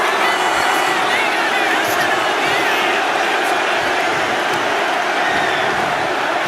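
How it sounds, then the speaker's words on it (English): A dense arena crowd roars and cheers continuously at a WWE 2K25 wrestling match, with loud, sustained whoops and yells filling the space. "Mark is really getting the crowd going."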